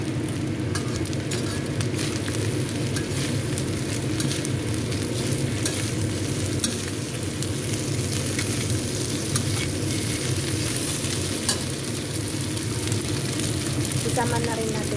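Tofu frying in a pan for a dish of dried fish with tofu and peanut, a loud, steady, crackling sizzle that continues throughout, with faint stirring and occasional talk underneath.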